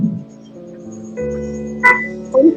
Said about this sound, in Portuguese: Parece um sapo aqui na área